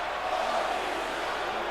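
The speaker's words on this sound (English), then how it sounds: "The crowd chanting for Batista though" A wrestling event crowd gives a steady, distant roar of massed voices that does not let up for the whole moment.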